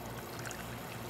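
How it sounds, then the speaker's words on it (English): Water poured into an aquarium filter, a short continuous splashing trickle heard up close and alone. "I'm just gonna add a little bit of water into the filter"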